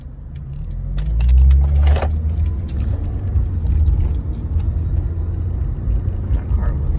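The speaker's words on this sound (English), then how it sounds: "Sorry, I'm trying to turn left, but all these cars decided to suddenly show up." Several cars rumble past at an intersection while a driver waits to turn left, a steady low engine and road drone close by with a louder surge early on, under some talk.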